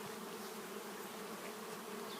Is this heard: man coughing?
no